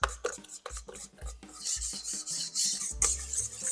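Sugar being stirred into egg whites for macarons, a gritty rasping scrape of utensil against bowl repeating in quick, uneven strokes, close and moderately loud with no talking.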